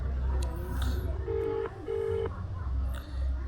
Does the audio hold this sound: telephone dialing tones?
yes